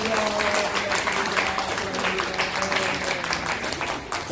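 A seated audience at a pastoral ministry lecture gives a sustained round of applause, close and fairly loud. The dense clapping carries on for over four seconds with faint vocal tones mixed in.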